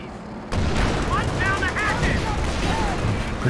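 Tank cannon blasts and battlefield fire in the Company of Heroes 2 strategy game begin with a sudden loud boom, followed by a continuous roar of combat noise and whistling shell sounds, with a commentator talking over it.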